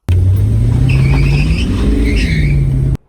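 A 1970 Ford Mustang Mach 1 muscle car with a Cleveland V8 drones loud and close while driving, a steady deep engine rumble with gentle pitch shifts, heard alone.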